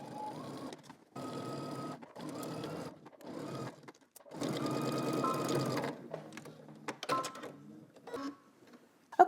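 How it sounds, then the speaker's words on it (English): A sewing machine stitches a skirt waistband seam in bursts of steady mechanical whirring, several runs of stitching separated by short pauses, close and clear, with handling clicks between runs. "we're going to head to the sewing machine. We're going to stitch this using 5/8 of an inch seam allowance."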